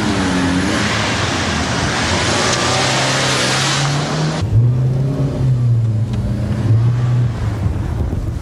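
A car pulls away and accelerates in a police drama street scene, the engine rising steadily under broadband wind and road noise, then shifting to a lower, continuing drone as it drives on.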